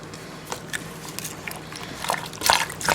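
Water poured into a pot of tomatoes for salsa, with light trickling and splashing in irregular bursts that grow louder toward the end, heard close up.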